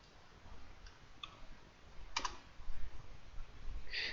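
Light typing on a computer keyboard, with a few sparse, quiet keystroke clicks spaced apart and a brief cluster of taps near the end, close by in a quiet room.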